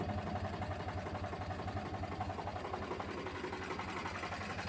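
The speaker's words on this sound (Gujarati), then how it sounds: "અને આ આપણું ટ્રેક્ટર છે 368 રીકોડો એન્જિન" Tractor with a 368 engine running at a steady idle in a sugarcane farm field, an even rhythmic chugging heard faintly at a distance with no voices.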